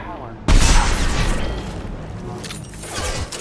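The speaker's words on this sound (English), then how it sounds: "Is he gonna explode?" A loud explosion erupts suddenly in the Mass Effect 2 video game, a heavy booming blast followed by crackling debris and rumbling that slowly fades over a few seconds.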